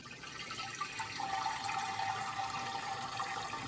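Sugar water pours steadily into a bowl in a continuous rushing stream, close and moderately loud, with no voices.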